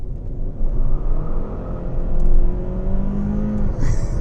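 A 2022 Hyundai Sonata N-Line accelerates with a loud, deep engine rumble and rising whir heard from inside the car, the pitch climbing steadily over several seconds.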